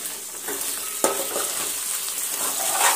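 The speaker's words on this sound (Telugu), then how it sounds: "కొద్దిగా ఫ్రై చేసేటప్పుడు మందం గిన్నెలో పెట్టుకోవాలి" Minced mutton keema frying in oil in a thick-bottomed pot, giving a steady, close crackling sizzle with one sharper pop near the start and no talking.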